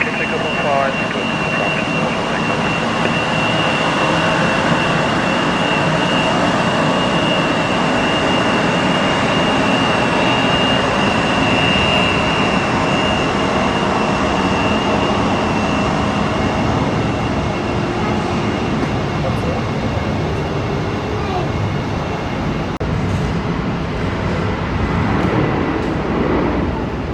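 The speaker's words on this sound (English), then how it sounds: "runway 15, cleared for takeoff" An airliner takes off from runway 15 at Warsaw airport, its jet engines a loud, steady, broadband roar that holds without a break for the whole stretch.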